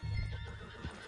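A horse in the video game Red Dead Redemption II gives a short, close whinny with a soft clip-clop of hooves, alone and fairly quiet.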